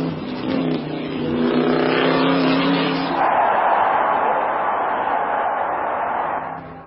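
Supercharged 8-cylinder 1500 cc Alfa Romeo racing car, a loud sustained engine roar that climbs in pitch and then shifts to a steady, harsh rasping drone, on an old muffled recording.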